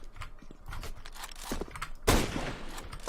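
New rifle gunfire in Counter-Strike: GO, a series of sharp shots in quick succession, ending in a louder burst near the end, with light movement noise between them.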